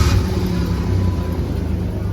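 A car engine idles steadily at around 800 RPM, a loud, close, even low rumble with no change in pitch.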